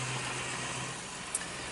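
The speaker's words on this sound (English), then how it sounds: "so we have a ton of road noise." Steady broadband road noise from a nearby highway at an RV resort, a constant near-uniform roar with no pauses and no one talking.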